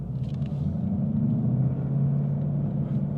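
A 2015 Ford Mustang 5.0 50th Anniversary edition gives a low, constant exhaust rumble from inside the car, even and unbroken, with no talking.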